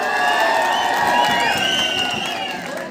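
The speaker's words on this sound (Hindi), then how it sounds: "एक बार जोरदार तालियां मैडम जी के लिए सबकी ओर से।" A crowd at the prize distribution of an under-19 boys' zonal tournament claps and cheers for a guest, with steady applause under excited shouts and whoops, fading slightly toward the end.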